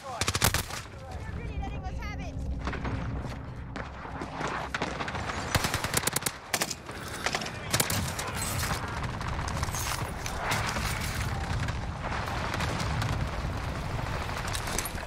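Gunfire from the RA 225 in Call of Duty Warzone on Rebirth Island: dense, continuous rapid shots and bursts fill the whole stretch with almost no pause. A voice may talk faintly underneath.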